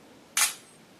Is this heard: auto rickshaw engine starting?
no